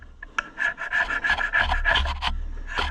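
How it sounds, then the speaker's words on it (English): A carbide scraper scrapes a carburetor part on an Allis Chalmers tractor, making a close, gritty rasping run of quick strokes followed by a short final scrape. "so I had this other one in the pickup, the carbide scraper, so I guess we'll use that."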